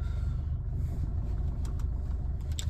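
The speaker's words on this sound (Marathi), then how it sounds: "आता आपण घेऊन जाऊयात गाडी" A car's engine rumbles steadily at close range as the vehicle is driven away, a constant low drone with no talk.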